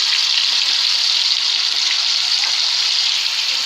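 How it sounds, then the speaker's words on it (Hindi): Chickpeas sizzle steadily in hot oil over a medium flame for nimko, a dense, continuous frying hiss that stays loud and even throughout with no voices. "ये देखिए, अब चने हम फ्राई करने लगे।"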